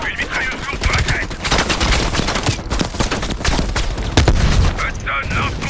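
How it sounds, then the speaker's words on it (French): Heavy machine gun fire rattles in long, dense bursts through a Call of Duty Cold War campaign battle on a ridge, loud and close, with brief pauses between volleys. "Attention, une mitrailleuse lourde sur la crête."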